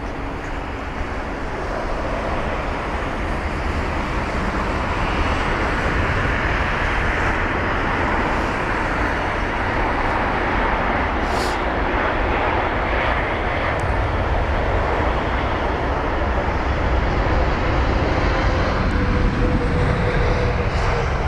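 A 22-year-old Boeing 777 arriving from Atlanta at London Heathrow roars steadily for over twenty seconds, a loud, broad, sustained jet-engine rush heard from the ground with no speech.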